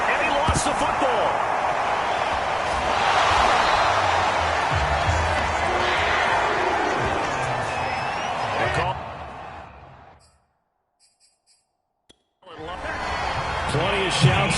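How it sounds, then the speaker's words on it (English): A stadium crowd in a PS4 football video game shouts and roars loudly for several seconds, then drops to near silence before the crowd noise returns. "Plenty of shouts from this crowd as they watch the replay."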